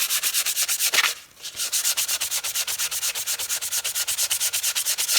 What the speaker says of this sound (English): you want to turn your sandpaper and sand with the grain this way